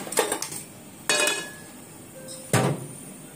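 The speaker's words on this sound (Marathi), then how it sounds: "मी पॅन ठेवलेला आहे" A metal pan set down on a home kitchen stove for cooking, giving three separate sharp clanks spaced about a second apart, each with a brief metallic ring.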